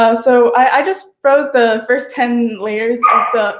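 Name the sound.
dog barking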